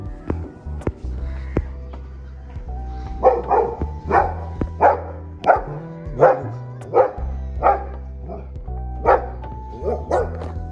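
Dogs bark repeatedly in short, sharp bursts that fall into a rough rhythm through most of the stretch. They sound fairly close and ride over a steady low background drone.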